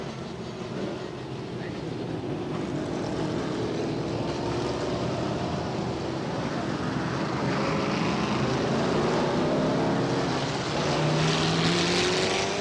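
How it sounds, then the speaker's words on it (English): Race car engines roar continuously at Star Speedway, a dense, loud drone of several motors blending together with shifting pitch as the field circles the track, with no talk. "The motors come alive."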